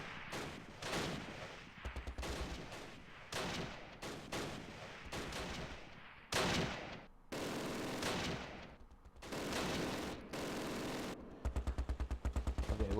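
MG42 machine gun fire in the wartime strategy game Close Combat Last Stand Arnhem rattles out in repeated sharp bursts of rapid shots, with brief gaps between them and a faster, louder stream near the end.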